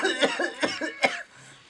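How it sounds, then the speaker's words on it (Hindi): Three quick, close coughs in a row, evenly spaced and fairly harsh, followed by a brief quiet tail. "दिन पर दिन हमें खांसी बढ़ते"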